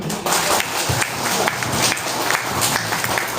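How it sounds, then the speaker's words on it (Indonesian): An audience of villagers claps at a community meeting about oil palm plantation plasma schemes, a sustained, fairly loud wash of many hands clapping with a faint crowd murmur beneath. "Tepuk tangan dulu"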